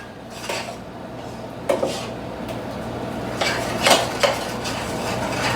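A spoon clinks and scrapes against an oven-proof metal pan while food is mixed with sugar, a run of soft scraping with a few sharper metallic knocks near the middle and end, no speech.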